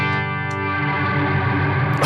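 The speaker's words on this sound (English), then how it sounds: "so this is a reverb" A clean electric guitar tone runs through an Eventide reverb pedal, sustained chord tones ringing with a lush, shimmering wash and a few faint tapping clicks, loud and close, with no talking.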